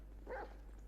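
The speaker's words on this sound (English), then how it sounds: "That's a dog." A single short dog bark from a GTA V game scene, mid-range and fairly faint, rising over a steady low hum in the background.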